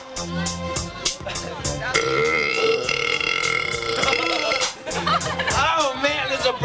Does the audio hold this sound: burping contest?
yes